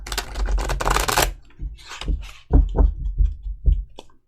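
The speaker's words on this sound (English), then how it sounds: "One more shuffle." Tarot cards being shuffled by hand: a dense riffling rush, then a series of distinct taps and slaps as the deck is squared, up close.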